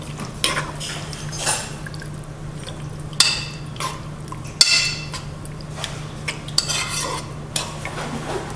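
A spoon stirs nutmeg into a sauce in a pot, giving soft wet squishes and several sharp clinks of metal against the pan over a low steady hum, close by.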